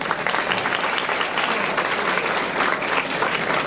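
Sustained applause from an audience welcoming young actors at a Malayalam film event for the movie Anuragam, a dense, steady wash of clapping heard without speech.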